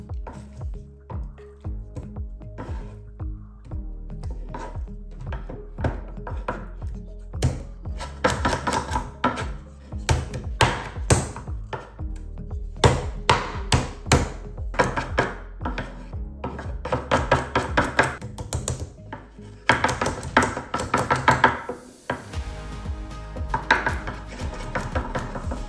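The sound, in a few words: beating butter to squeeze out the water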